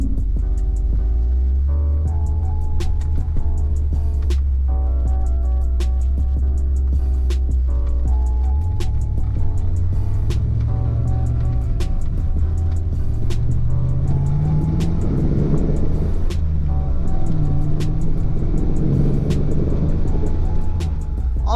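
A Ford Mustang Foxbody fitted with an SVE radiator drives steadily, its engine droning loud and close throughout, with pitch shifts as it changes gears and speeds, and no talking.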